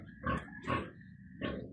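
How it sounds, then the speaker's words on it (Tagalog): Young unweaned piglets being bathed give three short, close grunting squeals, evenly spaced with brief pauses between them. "papakita ko po sa inyo ang aking pagpaligo ng aking mga biik na hindi pa winawalay"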